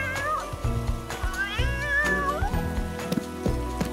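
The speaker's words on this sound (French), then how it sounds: "Oh, mon pauvre petit chat." A cat meows plaintively a few times, with long, rising and falling cries up close against a soft background of rain.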